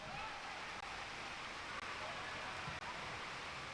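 Wind and rain sweep a football stadium during a pre-season friendly, a steady dense hiss of rainfall and gusts filling the whole stretch under faint commentary.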